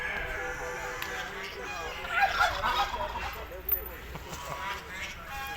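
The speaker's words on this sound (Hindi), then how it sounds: "ये टर्की है" A turkey at a rural village farm gobbles in short warbling bursts, strongest near the middle of the clip, over a faint background hum.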